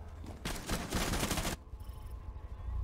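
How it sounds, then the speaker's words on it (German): Burst of rapid gunfire from a competitive video game match, a dense volley of shots lasting about a second, followed by quieter game ambience. "Hier kommen auch direkt die ersten Schüsse."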